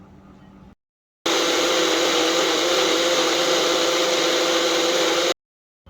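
An electric mixer grinder whirs steadily as it grinds a masala of white mustard seeds, coriander, dried red chillies, cumin, garlic, onion and ginger, starting abruptly and running loud and even for about four seconds before cutting off.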